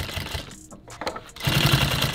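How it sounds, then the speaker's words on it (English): An industrial sewing machine stitches through bulky nylon tactical gear in two close, rapid bursts of mechanical chatter separated by a short pause with scraping handling noise, no voices. "I'm going to actually start in the bulk and I'm going to sew backwards so it locks that down"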